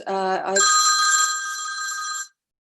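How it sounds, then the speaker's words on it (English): A mobile phone rings during an online talk, with a bright electronic ringtone lasting about two seconds before cutting off abruptly into silence. "Forgot to turn my phone sound off."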